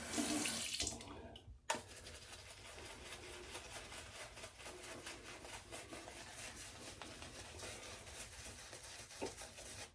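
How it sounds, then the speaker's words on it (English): Water runs steadily from a tap into a shaving soap mix, a continuous soft splashing stream with a brief clunk near the start as the flow begins, fairly quiet and unaccompanied by talk. "we're going to add a little bit more water to the mix"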